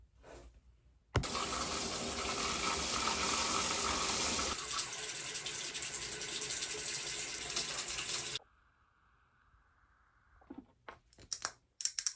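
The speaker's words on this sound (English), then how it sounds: "I'm gonna take a shower" Water runs steadily from a shower as a loud hiss that starts abruptly, shifts tone partway, then cuts off, followed by a faint hum and a few small clinks.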